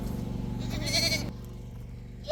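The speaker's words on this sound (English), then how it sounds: "Oh, my little goat pack." Goats in a small homestead herd let out a couple of bleats close by, one drawn-out call in the middle and a short one at the end, over a low steady hum.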